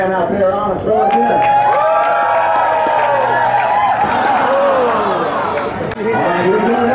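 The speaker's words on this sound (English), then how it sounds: "Make some noise for your man out there on and throw it in." Fans cheer, whoop and shout for an athlete at a throwing event, a dense, sustained roar of overlapping voices with excited cries rising above the crowd.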